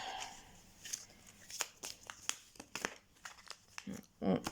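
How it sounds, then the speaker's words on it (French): Oracle cards being shuffled by hand give a run of crisp, papery flicks and rustles in uneven bursts, close and fairly quiet, ending in a brief soft thump. "Bon, je vais les mélanger."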